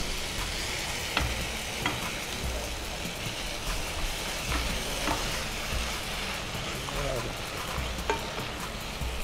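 Methi leaves pulao being stirred and mixed in a hot pan, a dense, steady sizzle throughout with repeated soft scraping strokes and occasional clicks, close and fairly loud.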